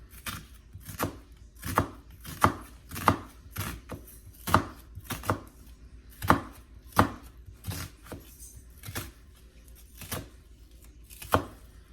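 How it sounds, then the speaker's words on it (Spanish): A knife finely chops onion on a cutting board in a steady run of crisp, close knocks, a dozen or so strikes at an uneven rhythm. "Ahora estaremos picando también nuestra cebolla finamente."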